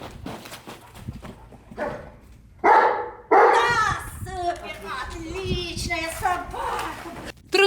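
Search and rescue dogs bark during rubble training, with several loud, sharp barks and yelps repeating over a few seconds, close by, mixed with people talking and handling noise.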